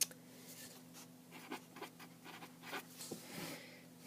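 Pen or pencil writing by hand on paper while working through a maths calculation, a close, quiet run of short scratching strokes and taps over faint steady room hum.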